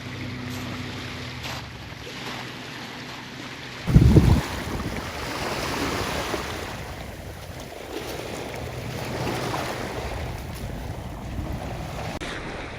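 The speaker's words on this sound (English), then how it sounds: "you can just see the tide lapping it there" Tide waves washing gently onto a shore at Lee-on-the-Solent, Hampshire, with steady wind noise over the microphone, broken by one brief louder thump early on.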